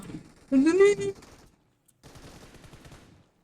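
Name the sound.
gunfire in the video game PUBG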